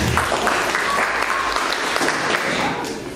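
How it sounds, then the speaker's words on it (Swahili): An audience at a church launch event bursts into sustained clapping, a dense wash of hands that holds steady for a few seconds and then begins to thin out. "pigieni makofi."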